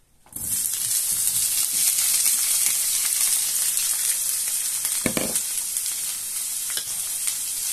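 Strips of red and green bell pepper fry in olive oil in a skillet, giving a loud, steady, close sizzle that starts abruptly and holds throughout, with a brief stirring scrape midway.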